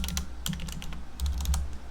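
Fast typing on a Corsair Strafe keyboard with Cherry MX Red switches, unlubed and without O-rings, gives close, loud, clacky keystrokes in quick irregular bursts with brief pauses.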